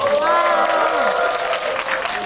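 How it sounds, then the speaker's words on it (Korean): Audience applause for film actors at a Korean movie stage greeting, a dense sustained clapping from a crowd, loud and steady throughout with some vocal tone audible underneath. "박수 한번 부탁드릴게요 배우분들한테"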